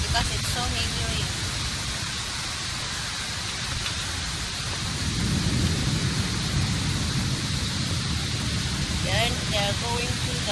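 Heavy tropical downpour in Singapore, a dense steady roar of rain that swells louder midway, with faint voices and a few distant calls rising above it near the end.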